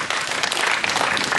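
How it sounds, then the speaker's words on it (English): At a county fair in Sidney, Iowa, a crowd breaks into one more round of applause as a hypnosis show closes, a loud, dense burst of many clapping hands throughout the short moment. "fully emerged from hypnosis to one more round of applause"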